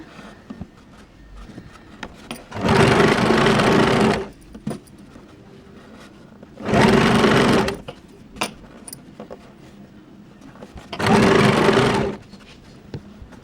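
Sewing machine stitching fabric for children's underwear: three separate bursts of rapid mechanical whirring, each lasting one to two seconds, with quiet handling clicks and rustles in the pauses between them.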